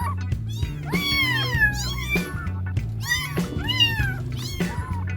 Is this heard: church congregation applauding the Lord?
no